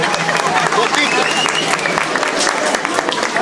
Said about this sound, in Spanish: aplaudan, por favor.